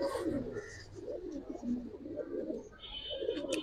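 Silver and cobra high-flyer pigeons coo steadily in low rolling phrases nearby, several birds overlapping, with faint higher chirps near the end.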